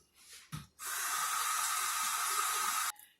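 Water runs steadily from a tap into a glaze-coated container, rinsing out leftover glaze from a peach cobbler recipe; a brief knock comes first, then a loud, continuous hissing spray lasting about two seconds before cutting off.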